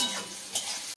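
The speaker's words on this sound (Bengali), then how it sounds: "তেল হয়ে গেছে, কাঁচা মরিচা পেঁয়াজ ছেড়ে দেবো।" Green chilies and onion drop into hot oil in a pan, a brief steady sizzle with a stirring scrape, close and fairly quiet, cut off abruptly.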